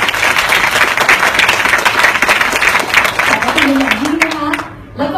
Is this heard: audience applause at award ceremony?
yes